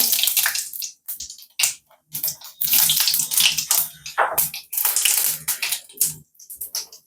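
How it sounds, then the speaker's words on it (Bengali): Cumin seeds crackling in hot oil in a pan, bursts of loud, close sizzling and spitting in uneven surges with short pauses between them, no voices. "জিরে দিয়ে দিচ্ছি তেলে"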